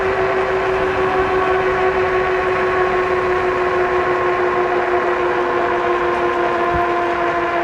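An Aostirmotor A20 e-bike's hub motor whines steadily at full throttle while climbing a hill, a loud continuous tonal drone with strong wind rush and no break over several seconds.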